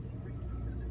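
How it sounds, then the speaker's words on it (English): A car engine idles steadily on a cold morning while warming up, a low continuous rumble that stays close and even throughout the short moment. "Just warming the car up"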